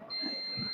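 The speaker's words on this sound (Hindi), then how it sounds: "देखो यहाँ पर बीप कर रहा है, इस साइड में बीप कर रहा है" A multimeter gives a steady high continuity beep while probing the circuit board of an Oppo A17 phone, sustained and clear over faint low handling noise.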